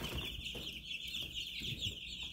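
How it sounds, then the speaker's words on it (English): Baby meat chicks in a brooder, a dense continuous peeping and chirping from many birds close by, with soft clucking and scratching beneath. "So here they are, the little meat birds."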